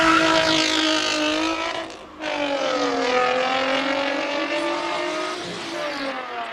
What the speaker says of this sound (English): Derek Truscott in the Nissan 350Z here at the start line.